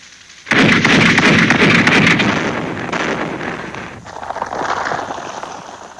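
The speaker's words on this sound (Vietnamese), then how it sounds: "Tôi đã đề nghị phía trên cho tất cả súng lớn bắn dồn dập đè đầu" Heavy artillery and gunfire in a Vietnamese war film set in 1975, a sudden loud barrage of booming blasts that rolls on, fading slightly then swelling again, with no talk.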